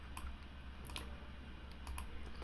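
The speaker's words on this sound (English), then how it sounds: "if we start typing in the letter C, U, R, you'll see that these columns start populating themselves as well" A few light, scattered keystrokes on a computer keyboard tap out while entering text into SQL Server Management Studio, faint and close against a quiet hum.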